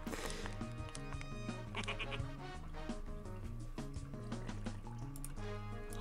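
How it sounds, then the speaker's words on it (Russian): Toilet cistern water trickles and fills in Neighbours from Hell 3, steady liquid gurgling and dripping laid over tonal game music throughout. "Туалетный бачок"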